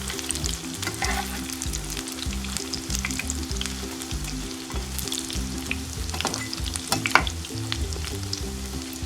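Potato cheese pancake frying in a pan, a steady close sizzle with soft crackles and a few sharper pops, no voices over it.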